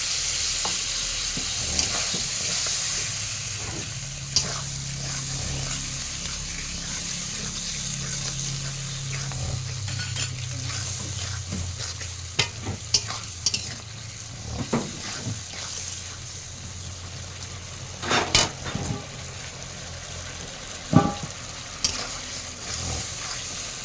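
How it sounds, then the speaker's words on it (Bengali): A long, steady sizzle of ginger and spices frying in a pan with a little water added, with a spoon occasionally clacking and scraping as the mixture is stirred. "আমি একটু জল দিয়ে আবার আদাটাকে মশলাটা ভাজছি"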